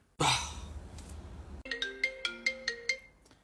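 A short burst of noise gives way to a phone ringtone, a bright melodic chime repeating in quick, evenly spaced notes.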